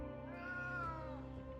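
A cat meows in a video game, one long drawn-out call over a steady background of game music and ambience.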